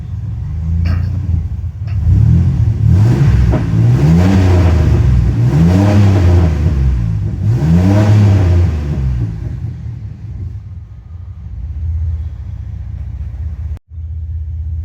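A GM car's engine revs hard several times in rising and falling sweeps up to redline, loud and close, then settles back to a steady idle.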